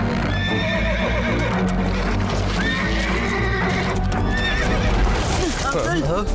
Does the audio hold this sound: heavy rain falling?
no